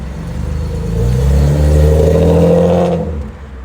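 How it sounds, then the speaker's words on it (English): A car engine revs up loudly through a newly fitted exhaust, a deep throaty roar that builds, holds for a couple of seconds, then drops away. "Y'all hear that exhaust that they put on there"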